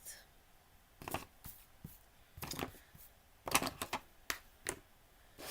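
Card paper being cut for a mixed media slimline holiday card, heard as a series of short, crisp snips and rustles spaced irregularly, fairly close and alone without talk.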